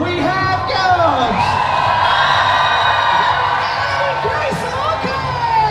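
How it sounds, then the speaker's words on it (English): A Comic Con Brussels convention crowd at a Stranger Things cast panel cheers and whoops loudly, with sustained shouting and yelling voices filling the hall throughout. "Begin some noise, applause, whoop!"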